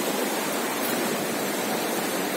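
A river or stream flows steadily, a dense continuous rush of water heard close and alone, with no talking.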